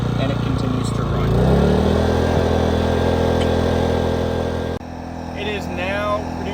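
A gasoline aircraft engine preheater runs in the cold after being pull-started on choke, a steady mid-pitched engine drone close by that briefly dips then continues, with a person talking over it.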